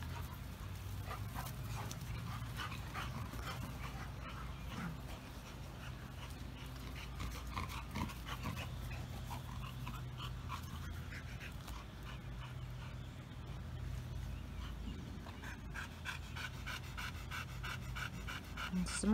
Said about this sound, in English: Well, now the dogs are playing,